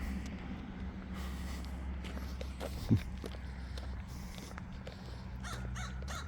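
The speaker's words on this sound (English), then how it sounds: "There's a crow up there watching me." A crow caws from overhead during an outdoor walk on a fine day, its calls faint and distant over soft footsteps and open-air ambience.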